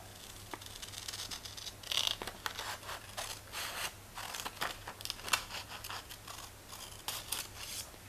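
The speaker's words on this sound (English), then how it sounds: "just take your scissors and slowly cut it off" Scissors slowly cut through a sheet of origami paper close by, giving repeated quiet snips and crisp rustling over several seconds, with no talk.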